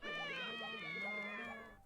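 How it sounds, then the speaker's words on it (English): A single drawn-out cat meow plays as a save-file selection sound in a Katamari video game, loud and clear and sliding in pitch for nearly two seconds before fading. "Na makes cat sounds because nya."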